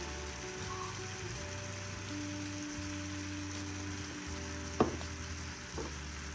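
Steady sizzling of food sautéing with turmeric and salt in a frying pan, a continuous crackling hiss with a brief clatter of a utensil near the end.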